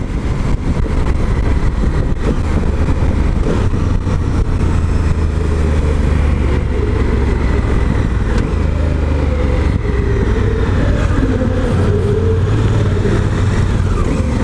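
A Honda Africa Twin motorcycle engine roars continuously while riding off-road, a loud, close, steady drone that rises and shifts in pitch as it accelerates, with no talking over it.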